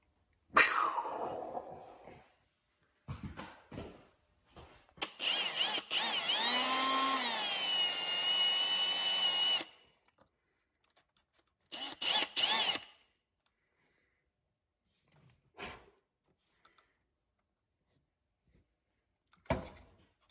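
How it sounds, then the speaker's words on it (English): A power drill drills a hole during a car electronic boost controller install, whirring steadily for several seconds, preceded and followed by short bursts of drilling and clattering handling noises with quiet gaps. "Got a little hole drilled there."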